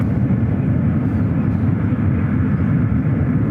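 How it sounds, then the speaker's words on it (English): A Boeing 777-300ER jet taxiing out for takeoff at San Francisco airport produces a continuous low, heavy engine rumble, steady and fairly loud, with no voices over it. "Eva, heading back to Taipei in this 777-300ER, heading out to the 28s,"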